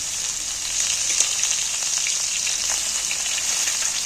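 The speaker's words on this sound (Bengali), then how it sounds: "দিয়ে আমি কিন্তু ভাজছি।" Fish roe fries in a pan over a low gas flame, giving a steady, even sizzle with soft crackles and no talk.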